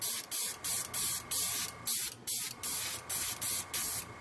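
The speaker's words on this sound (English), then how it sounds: "I'm just going back and forth with the airbrush like this" Airbrush spraying alcohol ink in a multi-layer flower painting, about ten short even hissing bursts in a steady back-and-forth rhythm, close and clear with no talking.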